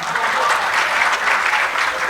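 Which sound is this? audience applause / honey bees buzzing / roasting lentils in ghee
audience applause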